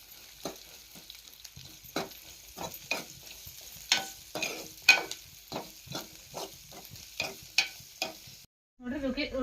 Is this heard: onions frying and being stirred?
yes